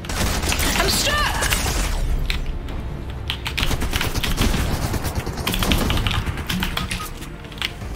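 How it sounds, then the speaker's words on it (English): Dense, loud video-game gunfire rattles in rapid bursts almost without pause, a continuous wash of shots and clatter filling the whole stretch, with no talking. "Got a couple of shots in on him."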